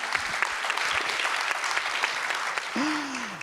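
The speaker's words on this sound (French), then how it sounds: "Applaudissez, applaudissez," Audience applause fills a French tourism conference hall, a dense steady clapping from a crowd that runs throughout, with a brief vocal sound near the end.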